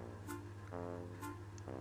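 Several short, cartoonish car horn toots sound over a soft vehicle hum, used as a playful effect in a children's word lesson; there is no speech.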